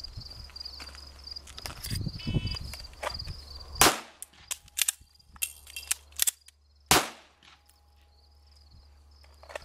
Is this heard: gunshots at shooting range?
yes